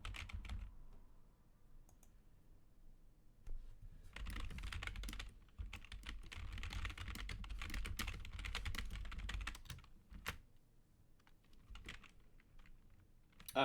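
Computer keyboard keys clatter in rapid, dense bursts during competitive multiplayer gameplay, close and fairly quiet, with quieter pauses between the busier stretches.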